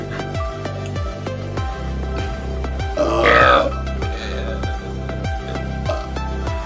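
Someone belches loudly in a burping contest, a long rough eructation swelling in the middle over steady rhythmic background music, with voices nearby.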